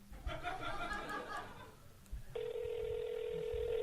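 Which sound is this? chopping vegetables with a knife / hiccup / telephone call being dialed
telephone call being dialed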